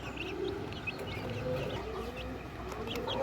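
Chickens and young chicks clucking and cheeping inside a cage on a farm, a steady mix of soft clucks and high chirps close by with no talking.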